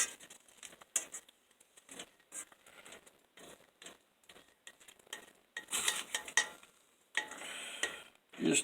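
Diced garlic and mushrooms cooking in melting butter over a gentle fire, with soft sizzling broken by repeated scraping and stirring of utensils against the pan, growing busier and louder toward the end.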